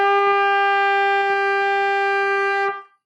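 A band instrument, played at second valve in a school lesson, holds a single loud, steady sustained note for under three seconds before stopping cleanly, with rich even overtones and no talk.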